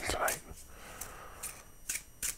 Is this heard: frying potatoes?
no